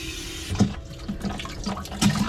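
Water sloshing and trickling in the live bait tank of a 4 mm plate alloy tinny, a soft, steady wash with a few louder gurgling surges, heard close and alone.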